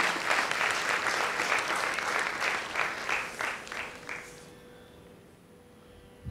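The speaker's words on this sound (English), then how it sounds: "please give a huge round of applause for Rudra and Prasanth" At a Bharatanatyam arangetram, the audience breaks into steady applause that runs for about four seconds before dying away into near silence.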